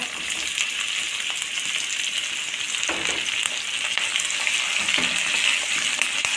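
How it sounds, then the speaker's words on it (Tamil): Tomatoes frying in a pan for a ridge gourd and coconut milk curry, a dense steady sizzle with a few stirring knocks and no talk. "இப்போ தக்காளி சேர்த்துடலாங்க"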